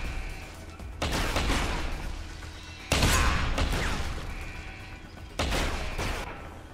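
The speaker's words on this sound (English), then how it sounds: "what is on this shotgun that I just activated? Upgrades, burst fire, fires 2 cartridges per burst" Shotgun set to burst fire in the video game Deus Ex: Human Revolution, firing two cartridges per burst: three loud, sharp blasts spaced a couple of seconds apart, each trailing off in a long rumbling echo over steady background noise.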